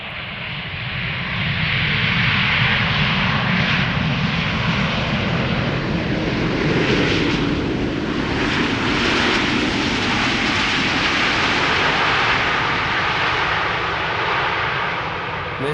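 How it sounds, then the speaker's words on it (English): A TUI Boeing 787 Dreamliner jet arriving at Schiphol Airport, a loud, steady broadband engine roar that swells in after a second and holds strong throughout with slight surges. "TUI Dreamliner."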